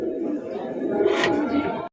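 A Rasgolla breed pigeon kept for sale coos in a short, low, throaty burst lasting under two seconds, close by, with voices in the background.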